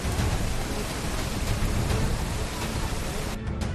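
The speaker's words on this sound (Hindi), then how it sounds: "देहरादून के तारकेश्वर मंदिर से नदी रौद्र रूप में बह रही है।" A river in violent flood rushes past the Tarkeshwar temple in Dehradun during heavy monsoon rain, a dense, continuous roar of churning water that fills the whole clip at a steady loud level.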